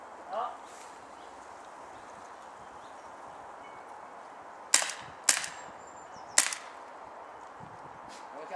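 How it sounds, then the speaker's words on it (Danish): Mauser M712 8mm gas blowback airsoft pistol firing semi-auto outdoors: three sharp, separate cracks spaced about a second apart, close and crisp over a quiet background with faint rustling. "Første test, Melser, 8 mm gas blowback pistol, full eller semi?"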